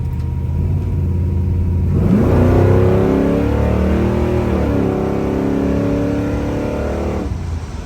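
A 1966 Chevy Caprice engine revs up and accelerates, a low rumbling growl with rising pitch sweeps, steady and close throughout.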